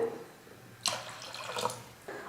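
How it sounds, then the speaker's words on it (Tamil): A brief splash of water pouring into a pot, starting abruptly and tapering off, then a short second pour, close and fairly quiet. "அதனால் கொஞ்சம் இப்போ தண்ணியை வச்சுக்கிறேன்"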